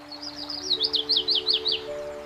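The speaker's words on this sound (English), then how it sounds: "I can hear the birds singing so beautifully." Birds sing in the countryside with a quick series of bright, rising chirps repeated about eight times over a steady background hum, clear and fairly close.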